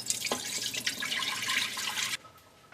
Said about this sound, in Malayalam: പരിപ്പ് നന്നായിട്ട് കഴുകിയിട്ട് നമുക്ക് കുക്കറിലേക്ക് ഇടാം. വെള്ളം കൂടി ചേർക്കാം.